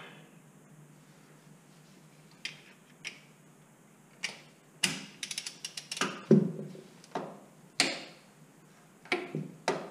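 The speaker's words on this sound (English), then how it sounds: "torque wrench." A torque wrench tightens a car's drive shaft fastener, giving a quiet series of sharp ratcheting clicks, first sparse, then in quick bursts, close by with no talk.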